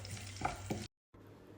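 Mustard seeds and slit green chilli sputter in hot oil as a tempering for a spiced rice dish, a soft sizzle with a couple of stirring clinks before the sound cuts out, then quiet frying resumes.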